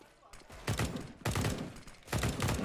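Rapid gunfire bursts from a Counter-Strike match on Dust2 crackle in three quick volleys, moderately loud, with a caster's voice talking over them.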